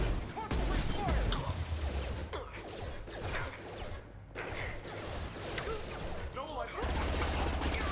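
Heavy gunfire from a Mass Effect firefight on Insanity difficulty, a dense near fusillade of shots and impacts running almost the whole time, briefly thinning midway, with a voice talking over it.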